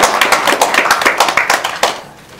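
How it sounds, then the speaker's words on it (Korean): A small group claps in celebration at a book publication event, a short burst of a couple dozen sharp, close hand claps in quick rhythm that thins out and fades after about two seconds. "우리 한 박사님께 축하의 박수 한번 해주십시오."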